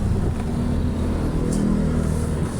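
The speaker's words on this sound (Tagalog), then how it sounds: "Grabe ang traffic sa BGC." Dense evening road traffic in BGC, Taguig, in light drizzle: a steady, loud rumble of car and motorcycle engines with occasional revving, continuous throughout with no talking.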